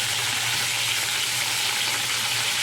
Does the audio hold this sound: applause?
no